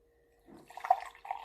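Fresh peppermint herbal tea is poured through a strainer into a cup, a soft, brief trickle and splash of liquid, faint and close.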